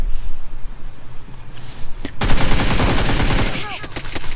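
Video game gunfire in a solo battle royale match: quiet background, then a sudden burst of loud, rapid automatic fire that continues in dense bursts with sharp ricochet-like sweeps toward the end.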